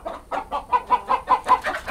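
Local chickens on a village farm cluck in a fast, even series of about ten close, loud pulses, with no talking over them.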